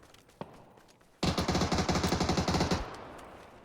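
A sustained burst of rapid automatic gunfire in PUBG, loud and close, rattles for about a second and a half after a single earlier shot and quiet background.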